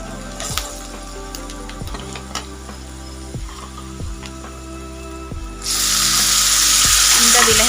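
Ginger, garlic, chili and spices fry in hot oil in a pan, a steady sizzle under repeated utensil taps, then a much louder, sudden hiss as more ingredients hit the oil near the end.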